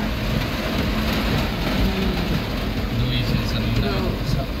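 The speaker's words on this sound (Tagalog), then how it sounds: "Like today, it's very rain. The rain is heavy." Heavy rain pours steadily in Cebu City as a dense, close, unbroken hiss. A voice talks over it.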